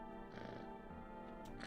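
A cat purrs steadily and softly while being petted in a video game, a low continuous rumble with no speech over it.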